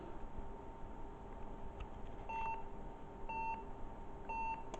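Three short, identical electronic beeps spaced about a second apart over a steady background hum and hiss, an HP Z230 computer's memory error beep at startup with a 4 GB module in slot 1.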